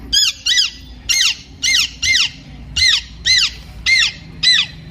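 A boy at a district-level talent contest imitates parrots with a rapid series of about ten shrill, sharp squawks in quick pairs, loud and close with brief gaps.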